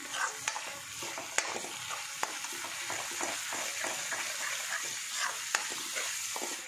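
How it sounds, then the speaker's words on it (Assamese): Onions frying in a pan for a simple home-style mutton curry sizzle steadily and close, with occasional sharp scrapes and taps of a stirring spoon against the pan. "পিঁয়াজৰ লগতে এনেকৈ ভাজি লৈছোঁ"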